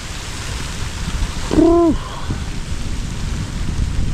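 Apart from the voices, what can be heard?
rain and sleet during a small storm in the woods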